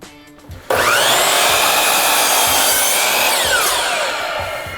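A power saw cuts 45-degree miters on trim casing for a historic window, spinning up abruptly, then howling loudly and steadily through the wood before the pitch starts winding down, close and with no talking.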